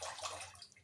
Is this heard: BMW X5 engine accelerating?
no